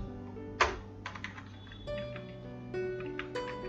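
Close, quiet typing on a computer keyboard while a database sequence command is entered, with a sharp key strike followed by irregular light clicks over a steady electrical hum.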